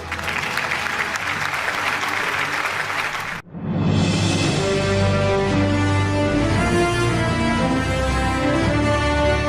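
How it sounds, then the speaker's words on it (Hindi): Loud applause from an audience at an annual award show, dense clapping that cuts off abruptly, then resumes as sustained clapping with music playing beneath it. "भरपूर तालियां होनी चाहिए खातिन और हज़रात"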